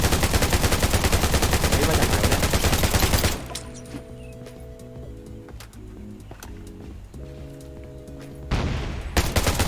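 Gunfire in the video game Undawn: a rapid, loud burst of automatic shots for about three seconds, then quieter scattered sounds with repeated tonal in-game chimes, and another burst of shooting near the end.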